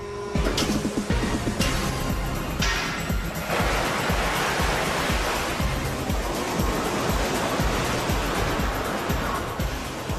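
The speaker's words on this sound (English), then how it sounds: "After the wave has broken, the water spills into the surrounding drains" An artificial wave pool machine sends waves breaking into the pool, a loud, continuous roaring surge of crashing water throughout with no break.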